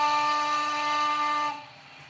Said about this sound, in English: American Steam Gauge single chime.